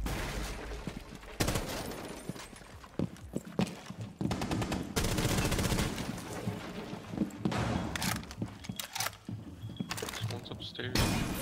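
Rapid automatic gunfire in a video game firefight, loud bursts and sustained volleys throughout with brief pauses, while players talk over it.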